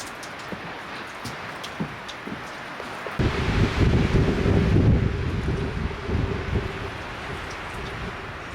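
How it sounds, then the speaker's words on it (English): A winter storm of snow, wind and freezing rain roars in, a steady broadband rush of gusting wind and pelting precipitation that swells loudly after a quieter start, with scattered ticks and taps throughout. "the snow, wind, and freezing rain hit with full force, just as forecast"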